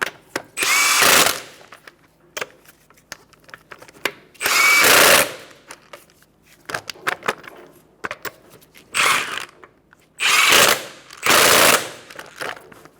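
A power tool, likely an impact wrench, tightens the wheel lug nuts on a 2014-2019 Kia Soul in several loud, near bursts of one to two seconds each, separated by short pauses and small clinks.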